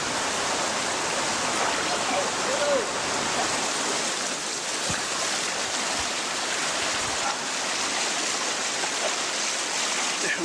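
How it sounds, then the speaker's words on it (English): A swollen river running high after the heaviest rain in decades, a loud, continuous rushing roar of water close by, steady and unbroken throughout. "The river is much higher than usual, so just getting around is a challenge."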